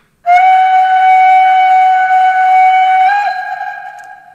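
A 1:32 scale Prussian T3 (BR 89.70) model steam locomotive gives a single long, loud, steady whistle tone lasting about four seconds, with a slight lift in pitch near the end before it fades.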